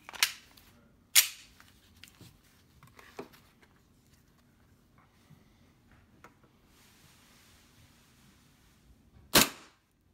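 A Hi-Capa airsoft pistol fires 0.25 Tippmann tracer BBs through a chronograph: three sharp, snappy shots spread apart with quiet pauses between them.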